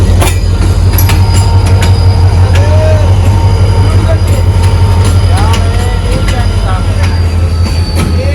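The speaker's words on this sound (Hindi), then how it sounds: "ट्रेन जो है 11 बजे वाली आ चुकी है" Passenger train arriving at Rawalpindi station, a loud, close, continuous rumble of railcars with squealing wheels and rhythmic clatter over the rails, with voices present under the noise.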